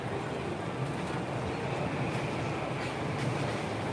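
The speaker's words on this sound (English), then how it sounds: "The train's going by." A train rolls past somewhere in Japan as a faint, steady broadband rumble and rush from start to finish, with no voices over it.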